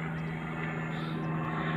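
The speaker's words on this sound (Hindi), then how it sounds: "हमारे गांव के ऊपर से हेलीकॉप्टर जा रहा है" An army helicopter passes over a rural village, heard as a steady, fairly faint droning hum with a constant low tone, distant and unchanging throughout, with no talking.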